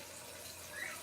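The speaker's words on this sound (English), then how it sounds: "Are you done with the water, Buster?" Water runs in a steady, soft hiss, like a tap flowing into a sink, with nothing else heard.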